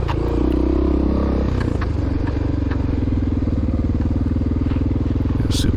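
A Honda XR600R dual-sport motorcycle races at a motocross park, its single-cylinder engine running loud and close with a steady, rapid thumping that holds throughout.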